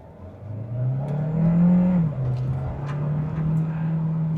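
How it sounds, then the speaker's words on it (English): 2026 Kia Sportage Hybrid floored in sport mode from inside: engine drone climbing in pitch under full throttle, a brief dip as the gear shifts, then steady strong pulling, with no talk. "Let's go ahead and floor it."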